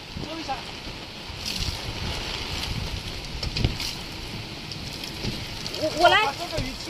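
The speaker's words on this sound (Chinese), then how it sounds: "这个雨倾盆大雨啊" A torrential rainstorm with gusting wind at an RV campsite, a rough continuous roar with bursts of wind buffeting the microphone, while people talk close by.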